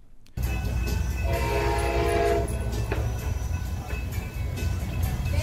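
A train rumbles past close by with a steady roar in Palm Beach County, a sustained horn blast sounding over the rolling noise for a couple of seconds.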